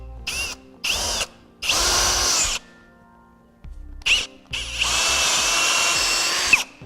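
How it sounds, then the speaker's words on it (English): A 1/2-inch drill bit bores out an existing hole in a plastic jounce bumper bracket during an Air Lift 1000 helper spring install on a 2009 vehicle, with three short bursts followed by two longer sustained runs of the power drill, close and loud. "take a 1/2-inch drill bit and enlarge the existing hole"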